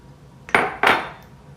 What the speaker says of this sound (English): And we're gonna mix that up